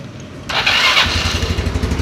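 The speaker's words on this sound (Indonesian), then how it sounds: "Setelah itu kita hidupkan ya motornya." A motorcycle engine cranks over and fires into life, shifting from a brief whirring start into a steady, close, throbbing idle, heard alone during an oil pump check.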